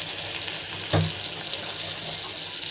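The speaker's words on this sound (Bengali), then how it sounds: "তো পরিমাণ মতো আমি কিছু জলও দিয়ে দিচ্ছি" Water poured into a cooking pan while making a Bengali hilsa fish curry with eggplant, a steady watery hiss and splash with a brief louder gush near the start, close and alone.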